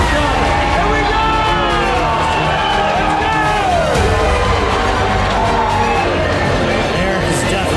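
Crowd at a junior cornhole match cheering and shouting steadily throughout, dense and loud, with whoops and yells rising over the continuous roar and voices talking underneath.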